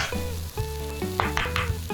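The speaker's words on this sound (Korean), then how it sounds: "뒤집개를 꾹꾹 눌러가면서 중불에서 익혀줍니다" A grated potato cake fries in a pan over medium heat, pressed down with a spatula. There is a continuous loud sizzle with crackling bursts and scraping touches, and no voices.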